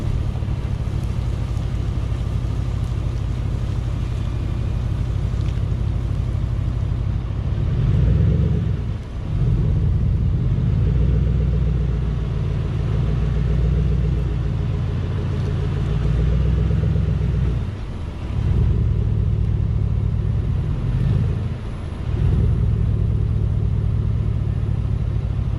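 A leveled Chevrolet Silverado on 35-inch tires driven at full steering lock both ways, giving a steady close engine rumble with a few brief dips and swells as it turns.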